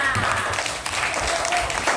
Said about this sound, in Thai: ปรบมือให้เพื่อนดังๆด้วยค่ะ